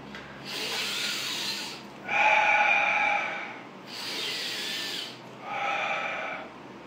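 Slow, deep breathing of a person doing a breathing exercise: four long airy breaths alternating in and out, close and quiet, with no talking.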